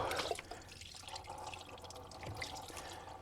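Engine coolant on a Dodge Journey with a 3.5L engine trickles and drips into a drain pan, a steady faint liquid pour with scattered drops, alone without talk.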